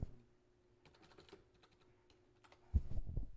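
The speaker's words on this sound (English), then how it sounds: "type my password" Someone types a password on a computer keyboard with quiet, rapid keystroke clicks heard up close, ending in a louder thump as a final key is struck.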